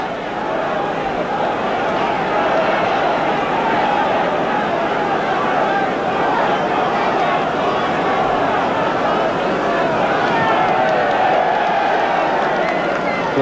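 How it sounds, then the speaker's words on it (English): A packed football crowd at a 1981 League Cup tie between Barnsley and Manchester City applauds a policeman who returned the ball, a steady loud roar of clapping and murmur filling the whole stretch without pause. "Applause for the policeman who returned the ball to play."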